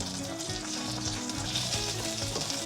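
Crushed leek and garlic fry in a pan as the base for a ramen soup, producing a continuous, close crackling sizzle with no voices.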